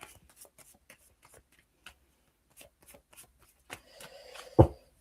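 Tarot cards being shuffled by hand: a run of light, soft, separate riffling taps and flicks, building to a louder cluster of card slaps near the end.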